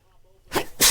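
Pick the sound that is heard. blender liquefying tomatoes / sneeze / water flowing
sneeze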